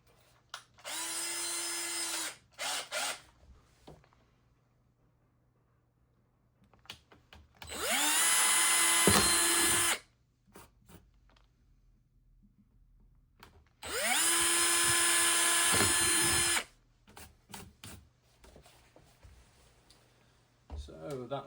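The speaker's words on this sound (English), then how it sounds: "So that's all the holes drilled that I'm going to need today." Power drill boring holes into a DIY Airbus cockpit panel: three separate loud whining bursts of a couple of seconds each, with quieter handling clatter and a faint steady hum between them.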